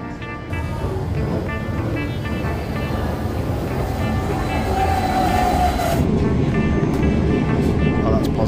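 A steady, loud rumble of a Swiss train in motion toward Grindelwald, with rattling and faint tonal whines throughout, heard from inside the carriage.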